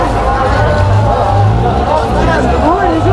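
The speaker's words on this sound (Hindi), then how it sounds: "यहाँ पे जो है ना भाई बहुत ज़्यादा भीड़ है आज तो" A large, dense crowd fills Amman's Roman theater for Jordan's independence day celebration, producing a steady, loud hubbub of overlapping voices and chatter that continues throughout.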